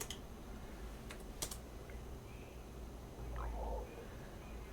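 Computer keyboard typing at a desk while working in CAD design software, with a few quick, close key clicks early on and then quiet room noise.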